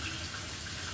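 Shower water running in a horror film scene, a steady, full hiss of spray that continues unbroken with no voices.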